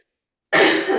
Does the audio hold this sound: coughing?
yes